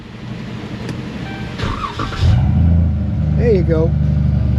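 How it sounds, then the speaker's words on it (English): A Chrysler 300C V6 cranks and catches, then settles into a loud, close idle with a brief rev as a person speaks over the start. "That's a mean sounding V6."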